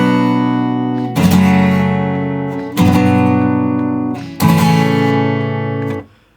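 Fingerpicked acoustic guitar chords from a song's middle eight ring out in three phrases, each sustaining before the next attack, played alone and close.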